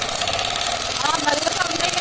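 Pedalled bicycle fitted with a plastic bottle against the wheel so it mimics a motorbike gives a close, loud, rapid buzzing rattle that pulses and rises slightly in pace, like a small engine revving.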